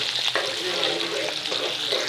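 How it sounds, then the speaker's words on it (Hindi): Chopped onions hit hot cooking oil in a pan for a Pakistani-style chicken macaroni, giving a steady, close, loud sizzle and crackle that runs through the whole clip with no talking. "इसको थोड़ा गर्म होने देंगे और अब इसमें डाल देंगे प्याज"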